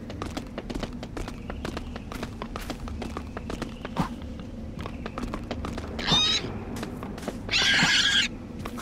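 A pig in LEGO Worlds lets out short squeals amid a busy run of rapid clopping, trotting steps, with two louder bursts of squealing near the end.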